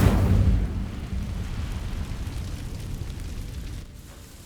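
Incendio fire spell igniting dry vines in Hogwarts Legacy: a loud whooshing burst at the start that quickly drops into a steady rumbling crackle of burning, then cuts down near the end.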